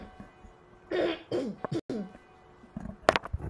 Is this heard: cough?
yes